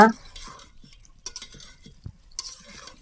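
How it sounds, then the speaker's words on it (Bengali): Beef stirred and fried with spices in a pot for biryani, a few close scraping stirs and light clinks of a spoon over a soft sizzle, with no talk. "এখন গোস্তটা দিয়ে দিলাম তো গোস্তটা দিয়ে আর একটু কষিয়ে নিব"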